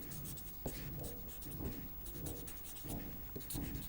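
Pen or marker scratching steadily across a board or paper while mathematical equations are written out, a close, continuous rubbing with brief stroke pauses and no talk.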